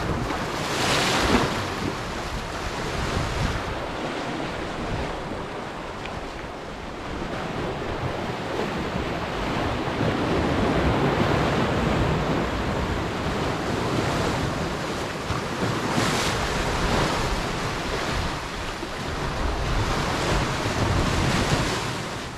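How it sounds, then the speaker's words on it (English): Waves crash and surge against the sea cliffs below Killiney Hill, Ireland, a continuous loud wash of surf mixed with gusting wind noise on the microphone, with no voices. "admire the waves crashing into the cliffs"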